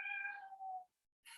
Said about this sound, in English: there's apparently going to be a lot of meowing in the background